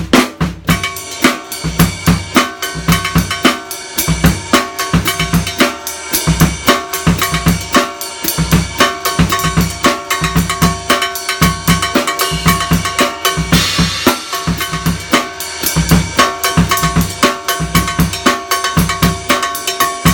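A drum set groove with the left hand leading on cowbell, which taps a steady polyrhythmic pattern over busy kick and snare hits, loud and continuous for about twenty seconds.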